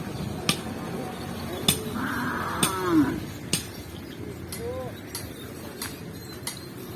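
A small cow moos a few times at middle distance outdoors on a field, amid sharp intermittent bangs and faint background voices.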